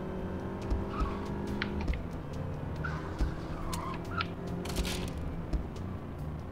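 A car in the zombie-themed driving game Zombie Driver rolls along with a steady engine hum, punctuated by brief tire skids and occasional impact thuds, with no talk over it.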